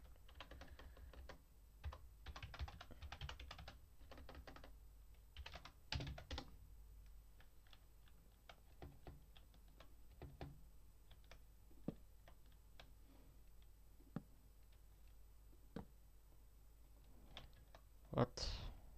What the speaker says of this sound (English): Please don't let me type this in.